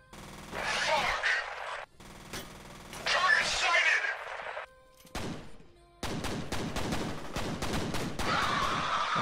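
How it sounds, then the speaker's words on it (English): Gunfire while shooting an enemy in the video game F.E.A.R.: loud rapid automatic bursts and sharp shots in several close volleys with brief gaps, mixed with metallic clatter and game effects. "shoot his head"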